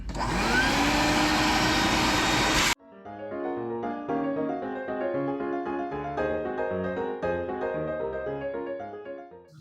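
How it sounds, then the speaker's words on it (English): A loud vacuum cleaner roars for under three seconds inside a RAM Promaster during a battery replacement and cuts off abruptly, followed by tonal music playing on. "Take this chance to vacuum up a little bit."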